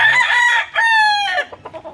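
A rooster crows once nearby in Rosario, Batangas, Philippines, loud and drawn out, the call breaking off into a few softer clucks at the end.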